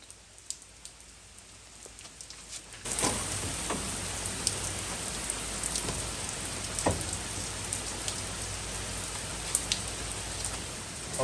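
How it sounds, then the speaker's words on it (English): Steady rain starts abruptly a few seconds in and keeps falling on nearby outdoor surfaces, a dense close patter with occasional louder drops, during a roadside brake job on a car; no one talks. "Look at the rain, guys. Coming out on me."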